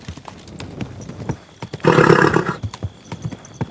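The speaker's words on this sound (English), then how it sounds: "Easy, good horse." In a medieval video game, a horse lets out a loud neigh in the middle, surrounded by steady clip-clop hoofbeats at close range.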